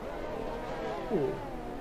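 A Formula 1 race car on the Monaco street circuit, its high engine whine holding steady with a brief pitch swoop partway through, heard at moderate distance against constant background noise.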